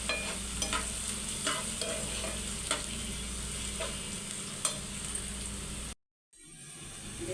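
Garlic and onion fry in hot oil in a wok with a constant close sizzle and occasional stirring scrapes. The sound drops out for a moment near the end before the frying returns.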